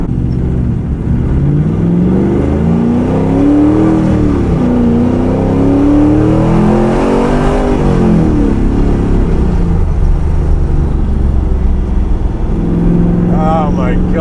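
A 1970 Ford Mustang Boss 427 engine revs repeatedly, its pitch sweeping up and down in surges, loud and close throughout.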